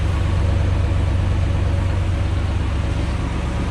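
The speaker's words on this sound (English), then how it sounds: "Quiet exhaust." A 1966 Ford F100 pickup sits idling with quiet mufflers, giving a steady, low, even engine rumble with no revving or talk.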